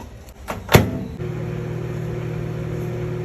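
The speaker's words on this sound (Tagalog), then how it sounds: "lulutuin natin siya sa microwave for 2 minutes" A microwave oven cooking instant noodles: a couple of clicks and a door clunk, then a steady, loud electric hum that runs on unbroken.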